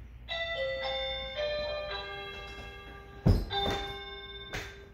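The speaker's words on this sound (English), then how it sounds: "so you heard the front doorbell" A multi-tone electronic front doorbell chime plays a short descending melody, moderately loud indoors, followed by a couple of thuds and a second chime starting.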